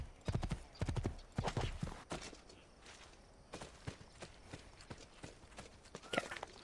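Horse hooves clip-clop in the Assassin's Creed II game, a series of close, sharp irregular strikes, heavier at first, then lighter steps continuing, with a faint voice in the background.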